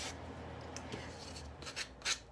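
A Dollar Tree sanding block rubbed along wooden edges to distress them: faint, soft scraping strokes that build into a few louder rasping passes near the end, heard up close with no talking.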